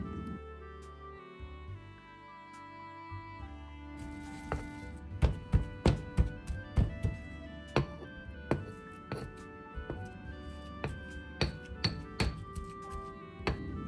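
Pesto ingredients being pre-crushed inside a bag before grinding, a string of sharp knocking impacts with bright clinking edges, irregular at first and then steadier, close and fairly loud over a quiet background.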